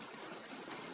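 Rain drips off a roof, making a faint, steady watery patter.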